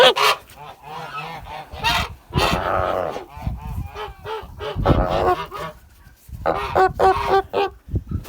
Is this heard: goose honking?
yes